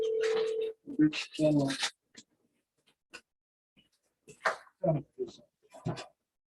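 A mobile phone rings from an incoming call, a brief electronic tone at the start, followed by people talking intermittently with pauses.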